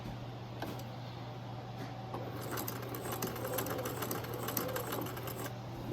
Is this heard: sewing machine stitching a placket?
yes